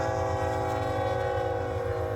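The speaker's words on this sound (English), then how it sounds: "here comes BNSF 6800 leading a westbound grain train." BNSF 6800 locomotive leading a westbound grain train past a lake, with a steady, loud engine drone and rumble and a sustained horn-like tone.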